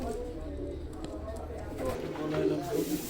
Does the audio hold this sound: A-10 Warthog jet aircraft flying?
no